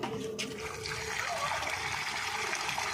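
Water pours into a snake burrow in the ground, a continuous trickling and gurgling stream, close and steady with a faint voice underneath.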